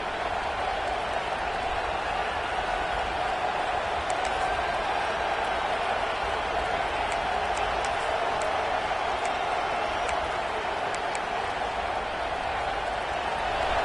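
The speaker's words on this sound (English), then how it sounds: "And this crowd coming to life here" Football stadium crowd roaring and cheering as the home defense lines up for a stop, a dense, steady wall of noise that holds evenly throughout, with a few faint whistle-like tones poking through.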